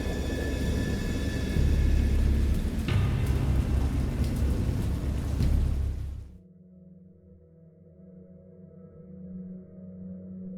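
A storm of thunder and heavy rain at sea, a loud broadband roar for about six seconds that cuts off abruptly, followed by a much quieter low rumbling tail.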